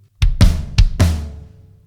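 Four hits on snare and floor tom in quick succession, with deep resonant booms ringing out loud and close after the last stroke.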